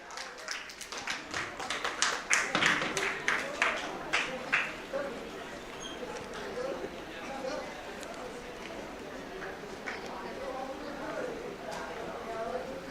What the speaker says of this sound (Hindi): हमारे मेहमानान के लिए जोरदार तालियां होनी चाहिए